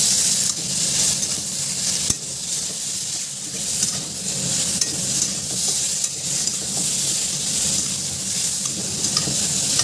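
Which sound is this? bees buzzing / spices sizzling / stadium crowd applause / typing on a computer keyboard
spices sizzling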